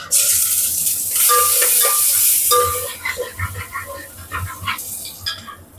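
Hot oil sizzles loudly with a steady crackling hiss as shallots fry, then a spoon scrapes and clinks in the pan as the frying settles into quieter bubbling.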